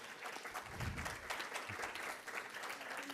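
An audience applauds to welcome a speaker at a university talk on fiscal outlooks for the region and Peru, a steady wash of clapping that fills the whole moment with no voices over it.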